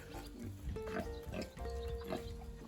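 Close, low pig grunts come in a few short bursts over steady pig-barn background noise, with no one talking.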